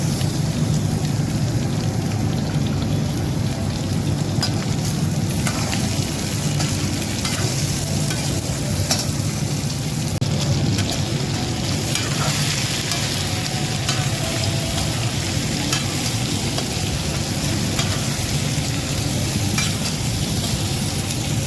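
Meat frying in a pan while masala is added for an Assamese home-cooked dish, a loud, steady, close sizzle with a rain-like crackle that runs unbroken throughout, with no talking.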